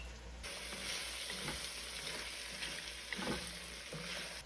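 Vegetables frying in a pan until tender make a continuous close sizzle and crackle, with a few faint stirring scrapes mixed in.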